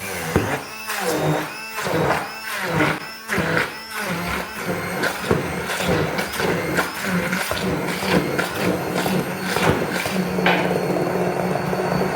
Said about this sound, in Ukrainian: І тепер я отак просто блендером перебиваю цю ягоду в пюре.